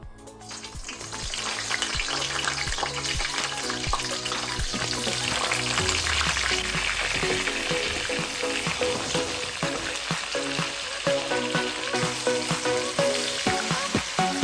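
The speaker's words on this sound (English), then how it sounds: "now we fry up the eggplant" Eggplant slices frying in a pan for Italian eggplant parmigiana, a loud steady sizzle and crackle of hot oil that continues throughout, with occasional clinks and scrapes.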